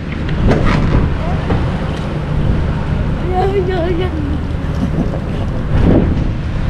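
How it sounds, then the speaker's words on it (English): Wind buffets the microphone in gusty, rumbling bursts at the Great Barrier Reef, with indistinct voices faintly underneath. "It's pretty windy."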